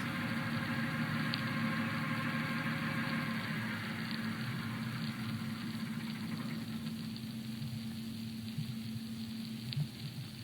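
A trials vessel's engine recorded underwater about half a kilometre away hums as a steady, distant, low drone, with faint crackling over it and no voices.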